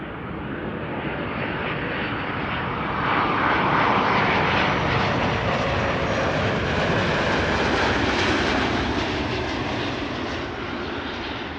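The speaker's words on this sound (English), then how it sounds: "Air Canada flight 808 is up next, arriving from Toronto" An Air Canada airliner arriving from Toronto at Amsterdam Schiphol produces a loud, sustained jet roar that swells in the middle and slowly eases, heard alone without talk.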